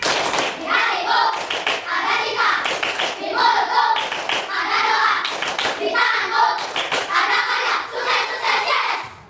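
Children in an elementary classroom perform a rhythmic success clap, with repeated patterned bursts of loud, close hand claps over about nine seconds, mixed with children's voices chanting along.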